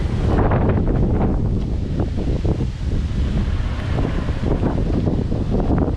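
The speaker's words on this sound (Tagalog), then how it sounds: "Ang windy, ang hangin." Strong wind buffets the microphone in continuous gusty roars, loud and close, with no one speaking.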